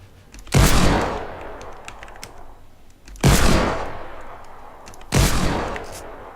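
Three booming sniper rifle shots ring out in the Fortnite video game, spaced a few seconds apart, each a loud sharp crack with a long fading echo.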